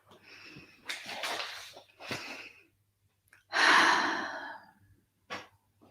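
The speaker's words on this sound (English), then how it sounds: "Take a deep breath." Deep, audible breaths close to the mic: a few airy inhales and exhales, the loudest a long drawn breath out in the middle, then a short final puff.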